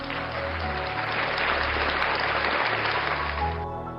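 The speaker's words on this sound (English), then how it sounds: "you get a round of applause" A round of applause plays for a viewer, a steady wash of clapping from a crowd lasting several seconds before it cuts off, with a low musical hum underneath.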